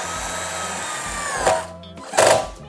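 A Dongcheng DCPL208 impact driver at medium speed whirs with a steady motor whine, then breaks into two short bursts of harsh hammering as the screw drives home, close and loud.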